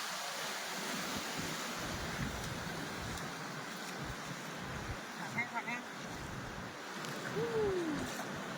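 Floodwater pours out of a marsh at Thung Nong Li in Laos during heavy flooding, making a steady, loud rushing roar with wind buffeting the microphone.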